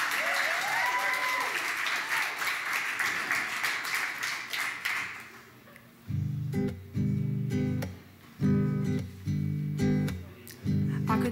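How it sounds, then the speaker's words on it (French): An audience in a show hall gives a singer-pianist warm applause, a dense clapping wash for about five seconds, then it gives way to rhythmic low piano chords and taps. "Je vous demanderai de l'applaudir"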